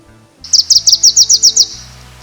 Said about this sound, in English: Wilson's warbler are definitely one of the more difficult West Coast warblers.